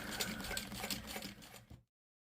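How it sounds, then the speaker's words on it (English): A sewing machine backstitching fabric, giving a short, quiet burst of rapid mechanical needle chatter close by that stops abruptly after under two seconds. "So I am going to backstitch this one."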